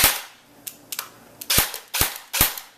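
A Makr-9 airsoft gun with a stock motor test-fires in sharp, loud snapping shots, some single and some quick doubles, spaced irregularly across a few seconds with no talking.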